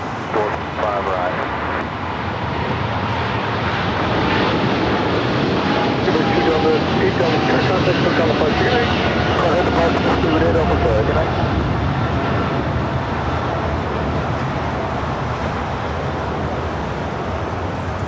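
A Dreamliner airliner taxis toward the west gates at LAX, its engines a broad, steady roar and whine that stays constant throughout, with faint radio or cockpit voices talking underneath.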